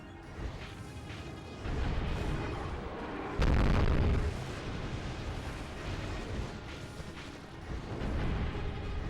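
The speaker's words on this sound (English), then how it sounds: "The explosions in this game are something else." Muffled rumbling blasts and low booms from the video game Drakengard, one heavier explosion standing out midway, over a continuous dense roar.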